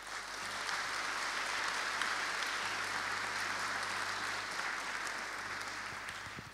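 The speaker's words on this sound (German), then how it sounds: "Applaus" Sustained applause from a church congregation in Kiel's Petrus-Kirche, greeting a city councillor: dense, steady clapping that fills the space evenly for several seconds, fairly soft overall, with no voices on top.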